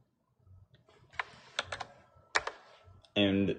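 Password typed on a computer keyboard: a quick, irregular run of crisp key clicks at close range, ending in a firmer keystroke and a short burst of noise.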